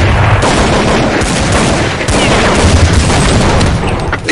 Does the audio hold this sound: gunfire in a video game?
yes